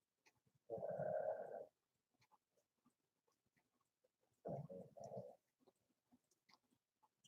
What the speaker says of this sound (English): That is the dog snoring.